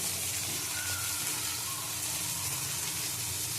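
Vegetables sizzling in hot oil in a pan, a steady dense hiss and crackle running continuously at close range with no pauses.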